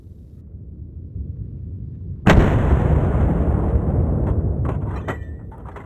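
A single sharp, loud rifle shot from a Sauer 202 cracks out during a wild boar hunt, followed by a long rolling echo that slowly fades into the open surroundings.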